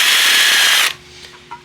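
A power drill bores out a broken bolt with a loud, harsh whirring grind for just under a second, then stops abruptly, leaving a low hum and a small clink.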